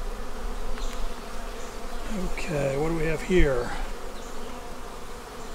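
Honeybees buzz steadily around an open hive during an inspection that shows honey, bee bread and pollen-laden workers, a near, wavering drone with a louder pass of a close bee midway and a brief spoken question over it.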